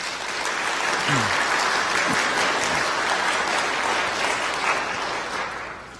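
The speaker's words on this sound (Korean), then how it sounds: "여러분들 인사드릴 때 환영의 박수 부탁드리겠습니다" A church congregation applauds during a Sunday worship service to welcome new members, with loud, continuous clapping that holds steady and eases slightly at the very end.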